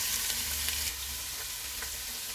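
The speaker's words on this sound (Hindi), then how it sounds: "ऑयल गर्म हो गया, इसमें 2 प्याज डालेंगे।" Two onions frying in about a third of a cup of hot oil, a steady broad sizzle with faint crackles, close and continuous, no voices.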